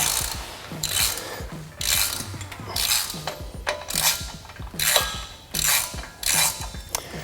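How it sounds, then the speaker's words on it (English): A 3/8-16 tap threads a hole on a Jeep JK frame with a steady ratcheting rhythm, repeated clicking strokes close up and fairly loud, no talking. "we like to just tap the hole just to get a little easier bite"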